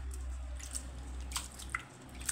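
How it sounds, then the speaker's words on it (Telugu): Ragi vermicelli washed gently by hand in a bowl of water makes faint, sparse drips and soft wet squishes, with a few brief splashes close by. "సేమియా అనేది విరగకుండా ఇట్లా 1 or 2 times నీట్గా వాష్ చేసుకోవాలి"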